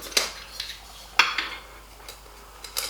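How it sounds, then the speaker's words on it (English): Titanium camping cup being handled and packed away, a few sharp metallic clinks and light scraping taps spaced irregularly, close and fairly crisp, with no voice. "So in the cup, I've got a titanium cup."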